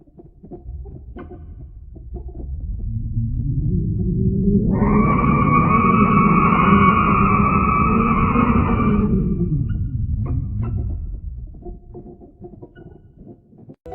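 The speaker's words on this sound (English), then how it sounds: "That software converts the image data into musical notes and sound frequencies." Eerie sonified tones built from Helix Nebula image data: a low rumbling drone swells from quiet, then sustained higher tonal layers enter midway, hold steady for several seconds and cut out as the drone fades.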